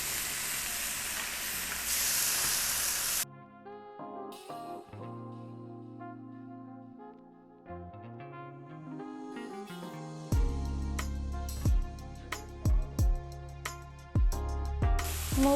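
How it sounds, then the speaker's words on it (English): An egg fries in a pan for a pork chop lemongrass rice dish, giving a bright, steady sizzle for about three seconds before music with sharp percussive hits takes over. "Okay, fry the egg, turn the other side."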